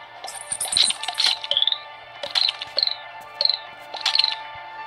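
Small goo ball creatures in a video game chirp like little grasshoppers, bright trilling cricket-like calls repeating in clusters over a steady background hum.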